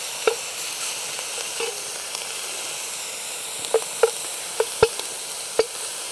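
Bacon lardons and sausage meat cooking in a pot give a steady close sizzle and hiss, with a few sharp pops and stirring clicks spread through the sound.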